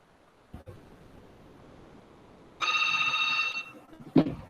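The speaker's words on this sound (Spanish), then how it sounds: "Disculpen un momento que está sonando el teléfono." A telephone rings once in a quiet room, a single sustained electronic trill lasting about a second over low background hiss, followed by a soft thump.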